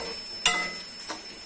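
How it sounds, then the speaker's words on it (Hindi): Spices roast in a hot pan for dhaba-style chicken keema, giving a soft continuous sizzle broken by two sharp stirring scrapes close by. "थोड़ा सा मसाले को भी हम रोस्ट कर लेंगे अच्छे से"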